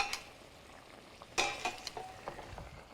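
Cod pieces simmering in a spiced Indian tomato sauce give a soft, close sizzle and bubbling, with a few sharper stirring clicks and spoon scrapes midway.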